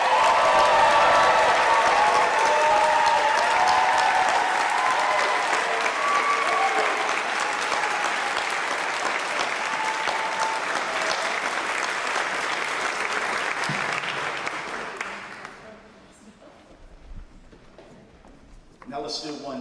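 A sustained, dense round of applause from the crowd at a college commencement honoring graduates, loud and steady for about fifteen seconds before dropping off to a few scattered claps and low room sound.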